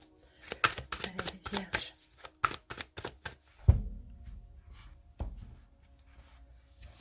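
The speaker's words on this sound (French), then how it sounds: "on va utiliser de Light Seer Tarot qu'on va déjà placer là sur le tapis" Light Seer Tarot cards are shuffled and laid down on a mat in a quick run of crisp flicks and slaps, then a firmer thump, with a voice speaking briefly.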